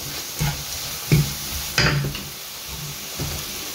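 Paneer masala seasoned with coriander powder and garam masala being stirred in a pan, giving a few soft scraping strokes over a faint steady sizzle, close by with no talk.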